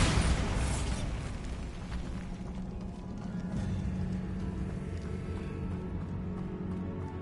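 A Bombarda spell explosion in the video game Hogwarts Legacy bursts open with a loud boom, then a long rumbling roar and debris that stays dense and steady throughout, with no voices.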